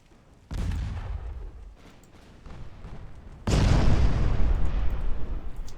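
Battleship main guns firing in the naval warfare game Ultimate Admiral Dreadnoughts: a heavy boom with a long rolling tail, then a second, louder salvo that sustains a dense roar to the end.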